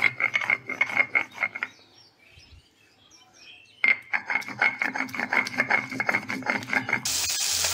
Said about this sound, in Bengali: আমি 3টে কাঁচা লঙ্কা শিলনোড়ায় বেটে নিচ্ছি